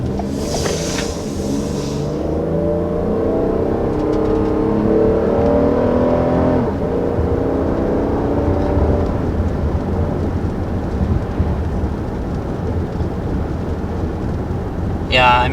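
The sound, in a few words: 2020 Toyota Highlander 3.5 liter V6 engine accelerating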